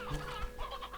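An elder hen in the video game Slime Rancher 2 clucks in a short, soft burst of a few quick clucks that ends within about a second.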